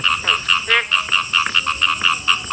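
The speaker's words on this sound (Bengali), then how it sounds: "হ্যাঁ সোনা ব্যাংক এটা।" Golden frog croaking at night beside a rail line, a rapid series of sharp, evenly repeated calls close by, with faint voices in the background.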